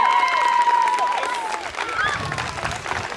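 Audience applause and cheering after a Moldovan team's acrobatic performance at a competition, a steady wash of clapping with crowd noise and voices mixed in.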